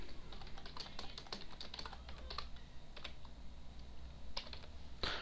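Fast, irregular clicking of computer keyboard keys, soft and close, with a slightly louder keystroke near the end suggesting a Control+Enter press, heard alone in a quiet room while coding a C# Windows Forms program.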